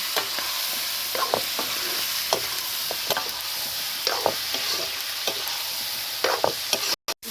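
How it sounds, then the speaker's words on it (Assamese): Meat stirred in a kerahi of hot oil with turmeric and onion, a continuous close sizzle with repeated spatula scrapes and knocks, no voices. "এতিয়া ভালদৰে লৰাই দিব লাগিব।"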